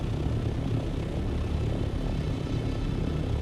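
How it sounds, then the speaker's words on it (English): Ornithopter aircraft in Dune: Awakening give off a loud, steady low rumbling drone with a fluttering, rotor-like texture that stays constant and close throughout, drowning out other sounds. "the ornithopters are just too loud"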